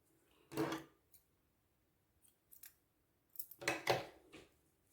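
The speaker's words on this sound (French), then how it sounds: "je vais déjà couper le fil du centre là, comme ça il ne va pas me gêner" Scissors snipping crochet yarn on a small heart keychain, two quiet close cuts with faint handling clicks between them.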